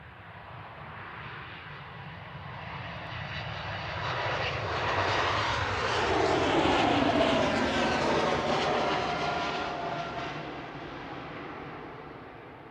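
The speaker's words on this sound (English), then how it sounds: "This is a 10-month-old Embraer E2 heading back to Amsterdam with flight 1038." A 10-month-old Embraer E2 jet departs Manchester Airport bound for Amsterdam, its engine roar swelling steadily to a loud peak as it passes, then slowly fading, with a sweeping Doppler shift and no voices.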